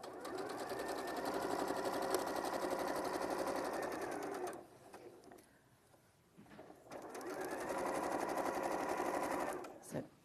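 A domestic sewing machine stitches fabric in fast, even bursts, running for about four seconds, pausing briefly, then running again before stopping, close and clear with faint chatter in the background.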